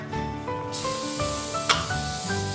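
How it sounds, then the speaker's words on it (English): Non-stick cooking spray hisses onto a baking sheet in a kitchen, several short aerosol bursts over a faint background, with no talk. "I want you to spray a non-stick cooking spray onto here, all over the place"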